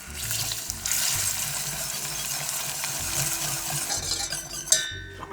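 Cubed butter being stirred into darkening caramel over lowered heat, a continuous bubbling, sizzling wash with soft scraping and a sharp clink of a utensil near the end.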